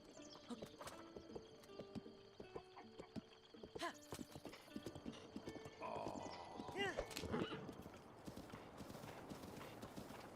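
Horse hooves clip-clop in Zelda: Breath of the Wild, a steady rhythm of quiet game footfalls with a brief neigh and some ambient birdsong, under a soft backdrop of game sounds.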